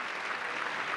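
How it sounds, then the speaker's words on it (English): Crowd applause at an economic development annual meeting, a brief, steady, diffuse wash of clapping with no distinct individual claps, moderately loud. "give them a round of applause."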